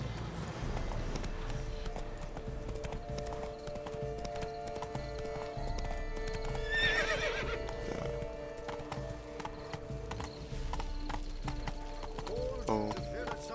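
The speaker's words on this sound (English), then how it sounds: "Can ride the freaking unicorn" Unicorn hooves clip-clop steadily in the video game Witcher 3, a continuous rhythmic trot under game music, with a whinny around the middle and a player talking over it.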